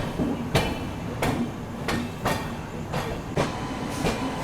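The New Delhi–Bilaspur Rajdhani Express rolls on after leaving Jhansi Junction, heard from inside a 3rd AC coach as a steady rumble with regular rhythmic clacks of wheels over rail joints, about every 0.7 seconds.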